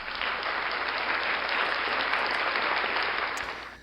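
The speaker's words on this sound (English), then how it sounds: "round of applause for the global elite" Steady applause from a crowd, a continuous dense patter of many hands clapping at even loudness, then tailing off at the end, with no voices over it.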